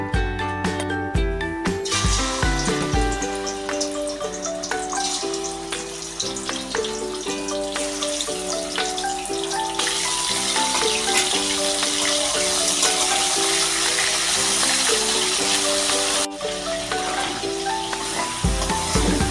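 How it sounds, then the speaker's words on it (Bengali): Prawns frying in hot oil in a wok, a loud continuous sizzle and crackle that runs throughout alongside a steady tonal musical background, with no speech. "এখন আমি চিংড়ি মাছগুলো প্রথমে ভেজে নেব"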